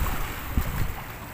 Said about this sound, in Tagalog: yung mga tubig dito, nag-iingay